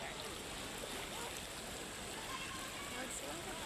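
A raging river flows nearby with a steady, broadband rushing wash of water, constant and even in loudness without pause.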